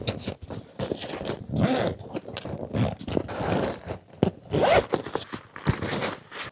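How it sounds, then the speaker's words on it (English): Zipper on a nail polish storage case being drawn closed in a series of short, close rasping pulls, with soft handling rustles in between. "I'm gonna zip it all up and show you."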